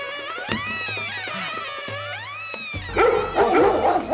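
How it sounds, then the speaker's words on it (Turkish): Dogs outdoors bark and yelp in an excited, close string of sharp barks and whining cries, loud and busy, with no talking over them. "Dışarıda köpek olduğunu bana niye demediniz? Az kalsın beni yiyordu köpekler be."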